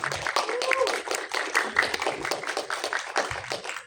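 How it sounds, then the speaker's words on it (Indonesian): Audience applauds the cast of the film Gundik at a press conference, a sustained patter of many clapping hands, fairly soft and even, with voices mixed in. "Tepuk tangan untuk Judy Kenzi Milano"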